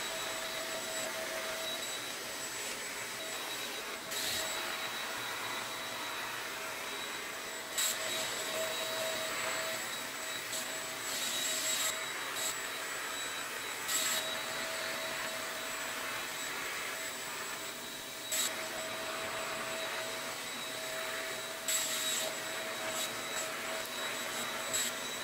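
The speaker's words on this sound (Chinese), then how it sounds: "继续把其他被子把它吸完呢" A handheld dust mite vacuum cleaner runs on bed quilts with a steady, loud motor whine throughout. Brief surges and dips come as it moves over the fabric.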